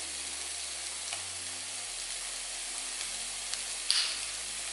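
Garlic paste sizzling in a pan for tomato basil pasta: continuous close frying hiss with light stirring scrapes and one brief sharper crackle near the end, with no talk.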